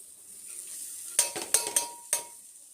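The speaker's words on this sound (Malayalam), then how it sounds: "ഇതിലേക്ക് നമുക്ക് കട്ട് ചെയ്ത് വെച്ചിട്ടിരിക്കുന്ന വെജിറ്റബിൾ അങ്ങ് ഇട്ട് കൊടുക്കാം" Chopped vegetables fry with turmeric, coriander powder and garam masala for a samosa filling, a soft sizzle broken by four sharp metallic stirring clacks against the pan in the second half, close with no voices.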